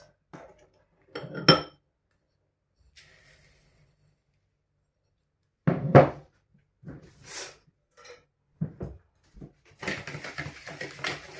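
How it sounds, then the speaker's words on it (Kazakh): Eggs go into a bowl for an apple crumble pie in a quiet kitchen: scattered knocks and clinks, a few louder bursts, then a longer soft rushing pour near the end, all near and with no talk. "Ең алдымен жұмыртқамызды құямыз."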